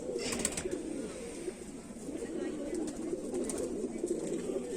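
Kamagar (Kamangar) pigeons of the Kante-Wale / Jhumke-Wale kind coo in a steady, throaty, overlapping murmur nearby, with a voice intermittently over them.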